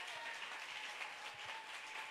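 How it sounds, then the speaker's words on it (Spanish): A church congregation applauds the Lord during a Spanish-language sermon at Iglesia Jehová Nissi, a faint and distant-sounding wash of clapping that holds steady through the short stretch. "¿Puede darle un aplauso al Señor así de verdad con todo su corazón?"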